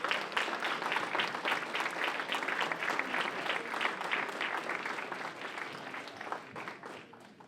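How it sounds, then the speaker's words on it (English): Audience at an education forum applauding the speakers, a dense, continuous round of clapping that tapers slightly toward the end, with no voices over it. "may I get one more big round of applause for our speakers."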